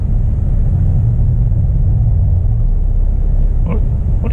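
A car rolls along a road, heard from inside as a loud, even low rumble of engine and tyres that holds steady throughout, with a faint brief tick near the end.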